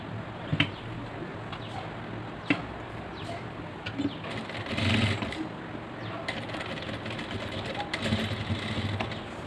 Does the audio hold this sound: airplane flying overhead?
no